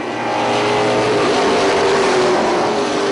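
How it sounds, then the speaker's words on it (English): Race cars roar under green at Punta Gorda Speedway, a dense, continuous wall of engine noise with rising revs as the field accelerates out of turn four, loud and steady throughout. "Green flag is up. We're racing."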